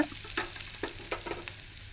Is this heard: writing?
no